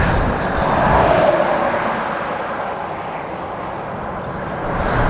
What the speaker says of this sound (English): The noise is outrageous right now. There's so many cars and trucks in this road.